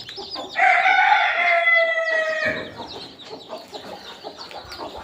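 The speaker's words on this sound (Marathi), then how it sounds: "हे बघा आपल्या कोंबड्यांनी प्युअर गावरान कोंबड्या आहे आणि यांनी आज पिल्ले काढलेले बघा" A pure desi (gavran) hen lets out a drawn-out, nasal clucking call nearby while her newly hatched chicks peep softly around her, then the clucking settles into quieter murmurs.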